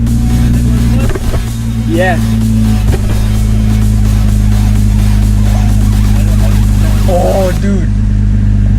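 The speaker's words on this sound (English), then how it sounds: "it sounds like a V6" A loud modified car engine, said to sound like a V6, idling with a deep, rough drone and short revs close by, as a man exclaims over it.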